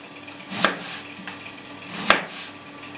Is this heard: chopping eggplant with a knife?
yes